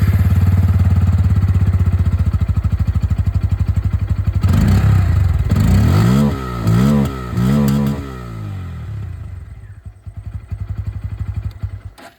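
A Bajaj Pulsar N160 with an underbelly exhaust idles with a deep, steady throb. It is revved several times in quick rising and falling sweeps, then settles back to idle, loud and up close.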